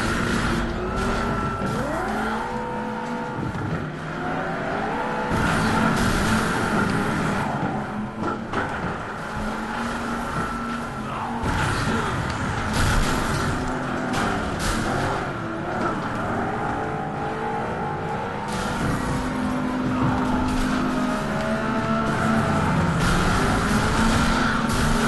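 Cars racing and crashing in the video game Flatout: Ultimate Carnage, with engines revving and shifting pitch, tires squealing and repeated crash impacts, loud and continuous with no talk.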